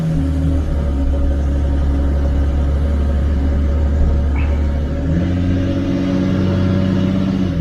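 A 2010 Ford Falcon FG engine with low fuel pressure and a lack of power runs with a loud, steady low rumble and droning hum, close by and unbroken, the pitch shifting slightly midway.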